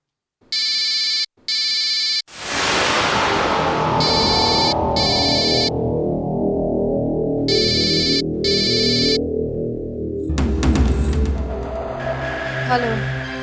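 A phone ringtone sounds in short repeated bursts during a repeated call, loud and close, over a swelling dramatic music and noise bed.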